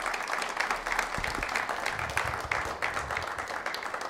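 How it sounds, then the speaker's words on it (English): Audience applause for an ambassador at a Costa Rica event, a sustained round of many hands clapping at moderate distance with a few low thumps underneath and no speech. "I'd like us to give a round of applause to Ambassador Hernandez."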